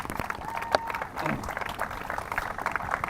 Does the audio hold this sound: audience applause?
yes